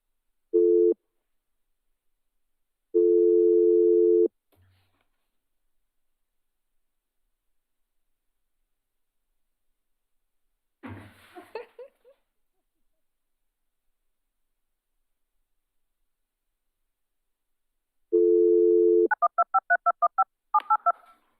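Telephone keypad tones from dialing into a Zoom meeting during a commission work session: a few separate sustained beeps, a short glitchy burst, then a quick run of rapid dialing tones at the end, with no talking.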